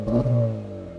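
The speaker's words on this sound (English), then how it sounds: "we have to listen to this car's exhaust" An Acura Integra Type S engine revs hard, its deep exhaust note rising with strong harmonics, then holding steady and easing off over about a second.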